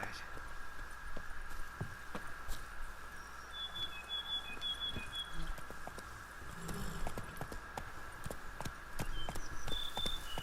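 Geralt's horse Roach in The Witcher 3 moving at a steady clip-clop, hooves thudding in a regular rhythm over a constant game ambience with faint bird chirps.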